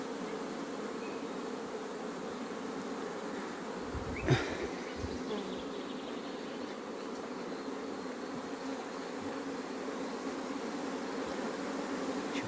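Bees crawling over fur-covered hive frames at a beehive, a steady close buzzing drone throughout with one brief louder passing buzz near the middle.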